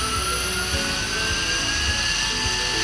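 An ASIWO U1 electric outboard motor running steadily in gear 2, giving a continuous high whine with layered tonal hum and a soft repeating low thump, loud and close with no talking.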